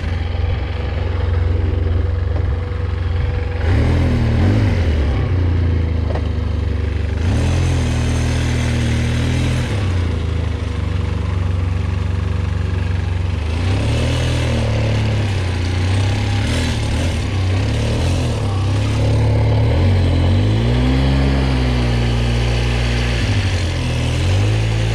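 Polaris ATV with worn engine mounts revving repeatedly, a loud close motor rising and falling through several throttle blips over a steady idle, with no speech.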